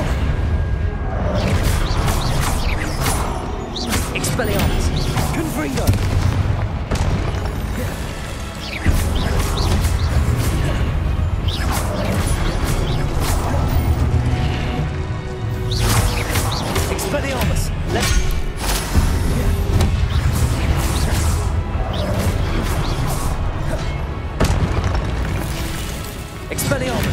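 Explosive Confringo blasting spells going off in Hogwarts Legacy, a series of booming bursts in a dense, continuous mix of game noise with a voice talking over it.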